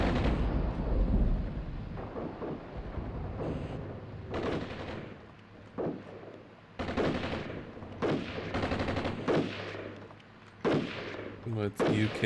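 Rapid gunfire and heavy artillery blasts in the Armored Brigade 2 war game, dense repeated bursts and booms over a rumbling battlefield backdrop, with occasional talk underneath.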